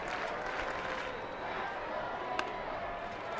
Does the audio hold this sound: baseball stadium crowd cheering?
yes